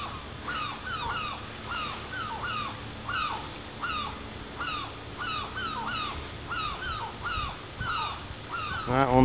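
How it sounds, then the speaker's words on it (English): Noisy seagulls on a breakwater leading out to Elizabeth Castle in St Helier, Jersey, giving steady, repeated harsh calls in a regular rhythm throughout, fairly close, over low outdoor rumble. "Some very noisy seagulls."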